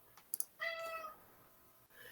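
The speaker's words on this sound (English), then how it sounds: "I don't know if you hear this meow in the background" A house cat meows in the background: a couple of short high clicks, then one clear, drawn-out meow with strong harmonics, followed by faint room noise.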